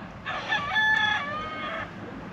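A rooster crows once nearby, a loud drawn-out call of under two seconds, heard outdoors at a van camp with no voices during the crow.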